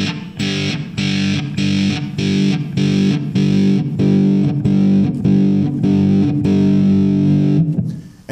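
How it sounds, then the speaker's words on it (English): Electric guitar power chords run through an Orange Fur Coat fuzz pedal, a thick, woolly, bass-heavy distorted tone with sustained strummed chords repeating in a steady rhythm, loud and close with no talking. "And here we have a very woolly, very rich, low-end, thick delivery."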